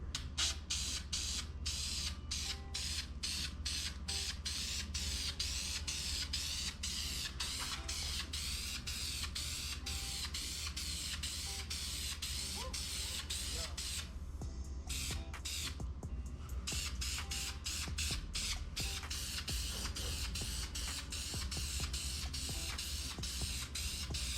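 Dupli-color engine enamel sprayed onto a Toyota 2JZ engine block for a final coat, heard as a steady hiss of aerosol spray in rapid repeated bursts over a constant background hum, with no talking.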